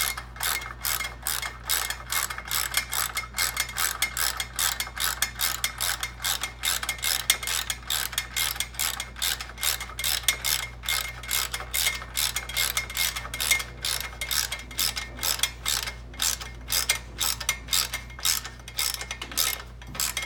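A ratchet tightens a bolt on an Indian motorcycle center stand being installed on a Chief or Chieftain, giving a long run of rapid, even metallic clicks, close up and alone.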